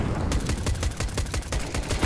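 Rapid automatic gunfire in a video game shooter, a steady run of sharp close shots in fast rhythm lasting a couple of seconds, loud and with no talk over it.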